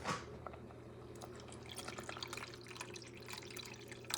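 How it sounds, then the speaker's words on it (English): Water is poured into a pot of stew for a Puerto Rican churrasco meal with rice and white beans, making a faint, steady trickle and dribble throughout. "Add water"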